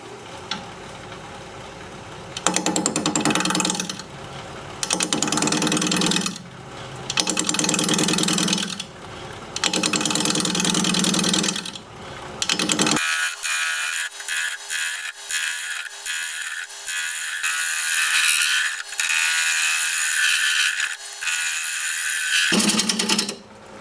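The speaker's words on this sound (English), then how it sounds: "I'm going to be turning at this angle, knocking this corner down, and those shavings come off of there and hit you right here" A wood lathe spins a holly bowl blank at 600 RPM as a 5/8 inch bowl gouge cuts, giving a loud, continuous whirring hum broken by repeated rhythmic pulses of cutting, then a steadier high whine with fast clicking ticks.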